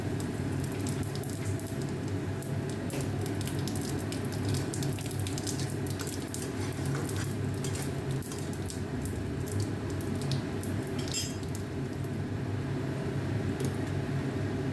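Cumin seeds sizzling in hot oil for a Bengali dal tempering, with dried red chillies torn into the pan, a steady dense crackling hiss that holds evenly throughout with no talk over it.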